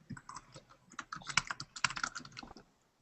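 Fast, uneven typing on a computer keyboard, a run of close, crisp key clicks with a few louder strokes, heard alone without talk and fading out near the end.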